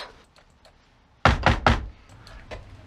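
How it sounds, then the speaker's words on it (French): Three loud, firm knocks on a wooden door, evenly spaced and close, with faint room noise and a single softer tap afterward. "on frappa à la porte"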